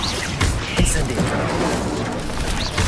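A fire spell cast in Hogwarts Legacy: a short whooshing burst with scattered crackles and impacts over game action, while a voice calls out the spell's name.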